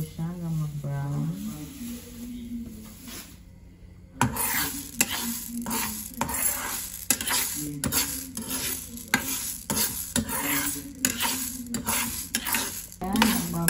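Raw mung beans toasting dry in a pan until brown, with repeated scraping and stirring strokes of a utensil against the metal and a soft sizzle, while someone talks over parts of it.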